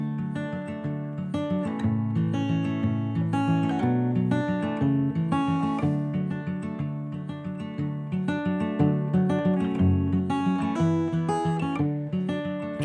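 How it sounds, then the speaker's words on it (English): An acoustic guitar plays continuously, busy picked and strummed notes ringing together, close and clear with no voices. "The acoustic guitar sounds like this"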